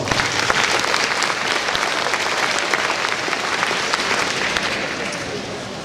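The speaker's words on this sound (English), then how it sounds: "Let's give them a round of applause." Sustained crowd applause at an agricultural awareness luncheon, a thick, even patter of many hands clapping that tapers slightly toward the end.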